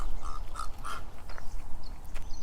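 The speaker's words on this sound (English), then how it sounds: "those are big birds here, but I can't see them now with the camera" Large birds call by the Sea of Galilee, three quick honking cries in a row, followed by quieter distant calls against outdoor background noise.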